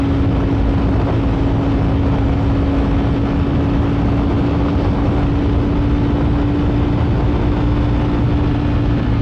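Ducati Streetfighter V4S 2022 motorcycle engine pulling hard under acceleration, a loud continuous roar with a steady tonal drone and rushing wind noise that does not let up throughout.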